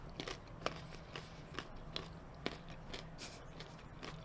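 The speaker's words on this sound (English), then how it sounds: "You can definitely hear me chewing right now. I put the carrot in my mouth" Someone chews a raw carrot, giving irregular crunchy bites close to the microphone over a faint background hum, with a few sharper crunches standing out.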